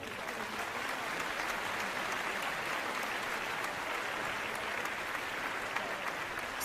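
Steady crowd applause welcoming Princess Luna to Ponyville, dense even clapping from many hands lasting throughout at moderate level, no voices over it.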